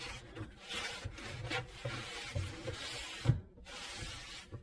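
A damp rag rubs debris off the inside of a deep wooden kitchen cabinet, making soft, close scrubbing and wiping strokes with a few light knocks.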